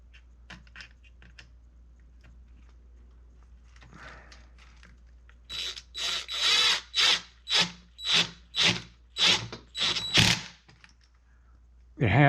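A drill bites into wood in a run of about ten strong, evenly spaced pulses, close and loud, after a few seconds of lighter tapping and handling.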